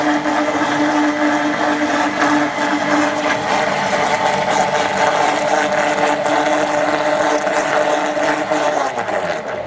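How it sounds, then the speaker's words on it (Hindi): An electric grinder machine grinds washed leaves, a loud, steady high-pitched motor whir with a constant churning tone that runs unbroken throughout, up close and with no talk over it. "आप उन पत्तों को ग्राइंडर मशीन में डाल दें और 1 से 2 मिनट तक जो है ना उसे अच्छी तरह जो है ना ग्राइंड होने दें।"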